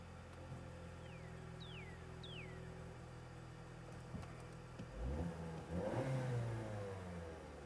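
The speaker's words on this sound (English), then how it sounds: "I'm gonna start the engine." A Ford Escape being checked for an intermittent cylinder misfire starts up near the end, with a burst of cranking and catching followed by a steady low idle over a quiet running hum; several faint rising whines come earlier.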